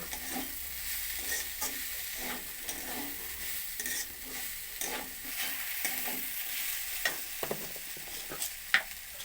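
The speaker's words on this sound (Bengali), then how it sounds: "একটা টমেটোকে কুচি করে নিয়েছি টমেটোটা দিয়ে আবারও ভেজে নেব" Cabbage and chopped tomato stir-fried in a pan, a steady close sizzle with repeated scraping stirs throughout, no voices.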